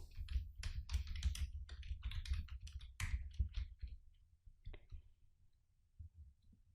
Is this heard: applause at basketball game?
no